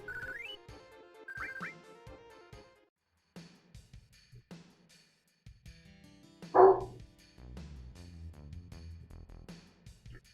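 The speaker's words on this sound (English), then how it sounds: "he's causing a ruckus with barking" A pet dog kept in a cage barks in the background of a Final Fantasy VII game livestream. A loud single bark rises midway amid game music and tones, with quieter sounds scattered around it.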